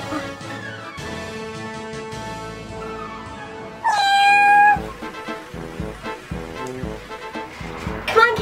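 A shy cat meows in a skit, short plaintive cries scattered over a musical backing, with a louder bright squeal partway through and another burst near the end.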